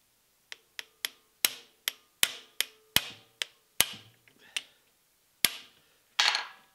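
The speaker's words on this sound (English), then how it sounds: "When you hit it, it will impact drive the head in that direction" A hammer strikes a manual impact driver during disassembly of a Delta 6-inch jointer, a dozen sharp metallic taps in an uneven rhythm, close and alone.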